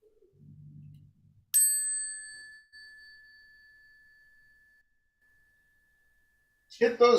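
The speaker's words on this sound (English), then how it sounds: "Hit those bells loud." A meditation bell at a Zen zazenkai sitting is struck once, a bright clear ring that sustains and slowly decays over several seconds, preceded by a low hum and followed by a second sharp strike.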